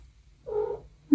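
A pet cat gives a soft, brief purring trill at close range, a short warbling burst in an otherwise quiet room, ending with a faint click.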